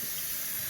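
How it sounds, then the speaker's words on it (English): Water runs from a tap in a brief, steady, soft hiss that lasts under a second, close by and faint, with no voices. "That was water."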